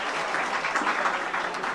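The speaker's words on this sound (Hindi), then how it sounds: "अगर लगा तो तालियां जरूर बजाना।" An audience at a Jain religious discourse gathering in Agra claps in a dense, steady wash of applause, moderately distant, with no talk on top.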